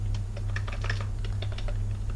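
Someone typing on a computer keyboard: a steady, close patter of light key clicks over a low background hum.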